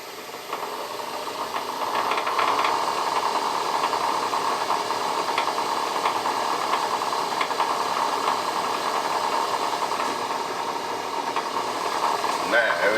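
A Newton Tesla three-phase motor drives a metal lathe on a single-phase domestic supply, giving a steady, fairly loud machine hum and whir with faint rattling that holds evenly throughout.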